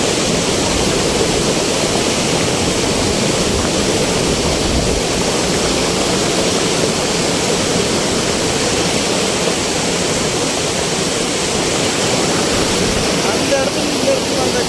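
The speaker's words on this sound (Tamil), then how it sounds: "தண்ணி பக்கத்தாடி சவுண்டுனால பேசுறது ஒன்றும் கேட்க மாட்டேங்குது" Loud rushing water roars continuously and evenly throughout, like a strong nearby flow or cascade, with no breaks.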